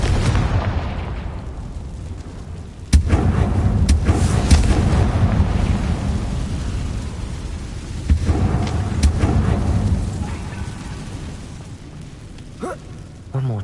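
A Confringo blasting spell bursts in Hogwarts Legacy: loud, sharp explosive impacts, several strong blasts with rumbling decay between them, over a constant noisy game backdrop.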